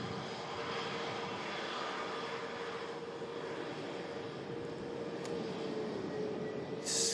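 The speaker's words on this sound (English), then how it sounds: "Scandinavian now on a short final" A Scandinavian airliner arriving from Copenhagen on short final at Manchester Airport during stormy weather gives a steady, continuous engine roar that holds at a loud level throughout, with no talk.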